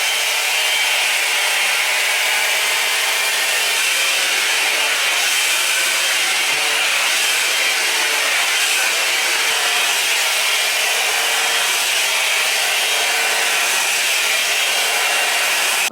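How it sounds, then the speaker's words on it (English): A hair blow dryer runs steadily on a wig for the whole stretch, a loud, close, continuous airy roar with no talk. "Now again, blow dryer."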